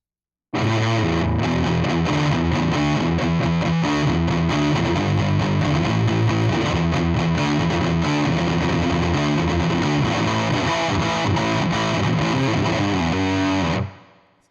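An electric guitar plays through a Bias FX PG Metal drive, heavily distorted and loud, chugging riffs and sustained chords ringing continuously for about thirteen seconds before stopping abruptly.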